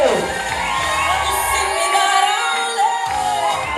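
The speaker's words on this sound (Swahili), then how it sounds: "Shangwe na vigelegele." A crowd at a ceremony commemorating the capture of King Zumaridi cheers loudly and ululates, with shrill whoops and shouts rising together in a dense, continuous roar.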